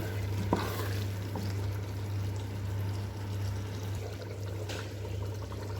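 Water is poured into a Nigerian fish and meat pie filling, a soft steady trickling stream heard close up over a constant low background hum.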